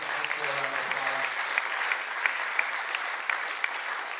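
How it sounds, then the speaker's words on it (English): Sustained audience applause for a high school's mural project, steady dense clapping across the whole stretch with a few louder individual claps standing out and faint voices underneath at the start. "So I would like to give Sidney Public Schools, particularly the high school, a round of applause."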